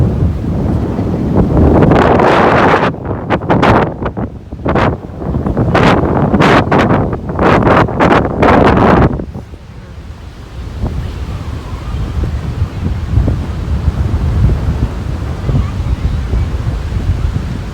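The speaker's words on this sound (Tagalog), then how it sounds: "Sobrang lakas po kasi ng hangin." Strong wind at Qiding, Taiwan roars and buffets the microphone in heavy gusts, then drops to a lower, steady rush with a wave-like wash underneath.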